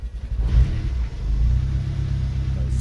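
A Fiat Cinquecento with an 899cc engine, running a little rich, revs close by and then comes off the throttle, leaving a loud, low, rumbling engine note that holds steady after the initial blips.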